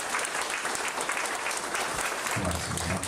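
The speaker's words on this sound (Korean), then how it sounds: "따뜻한 박수로 환영해 주시면 고맙습니다" A short burst of crowd applause at a disability sports policy workshop in Gyeongbuk, Korea, dense and even clapping from many hands, fairly distant and steady throughout.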